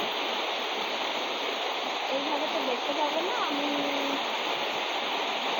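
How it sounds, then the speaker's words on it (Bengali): Rain falling onto a village pond, a dense, even hiss of drops spread across the water throughout, with a person briefly speaking over it. "আমাদের পুকুরের মধ্যে বৃষ্টির পানি কি করতেছে"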